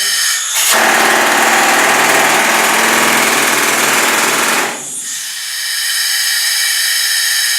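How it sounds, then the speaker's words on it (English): A pneumatic jackleg rock drill hammers loudly and continuously into rock in a gold mine near Juneau for several seconds, then cuts out, leaving a steady roaring hiss of compressed air and machinery. "this one right here will make a turn so I can drill"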